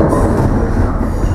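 A Czech Ex 545 Hutník express train rolls along the corridor track after leaving Praha hlavní nádraží toward Kolín, giving a loud, steady rumble of wheels and carriages close by with no voices.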